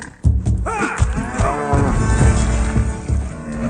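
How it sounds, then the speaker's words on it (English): Cattle in the video game DragonWilds moo loudly and close by, several long drawn-out lowing calls overlapping one another, with thumping game sounds underneath. "Oh my god, cows."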